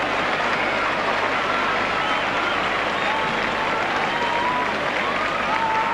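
A dense, steady roar of applause fills a rugby league stadium after a try in a 1995 Regal Trophy match between Leeds and Carlisle. It holds loud and even throughout with no break.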